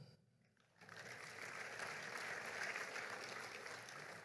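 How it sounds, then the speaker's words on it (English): Audience clapping at a sports hall of fame induction ceremony, starting after a brief quiet moment and swelling into steady, sustained applause that fills the room. "Y'all gonna be clapping all night."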